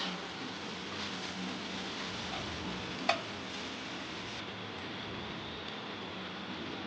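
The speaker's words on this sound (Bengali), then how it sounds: "দেখতেই পাচ্ছ আমি ভালোভাবে কষিয়ে নিচ্ছি পেঁয়াজগুলোকে মশলার সাথে।" Onions being stir-fried with turmeric and spices in a pan for an omelette, a soft steady sizzling hiss throughout with one faint click midway, close and fairly quiet.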